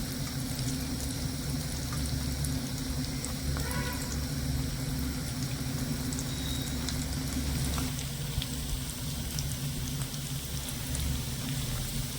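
Vegetable cutlets fry crisp in hot oil, giving a steady, dense sizzle with fine crackling that holds at an even level throughout, close by and with no voices over it.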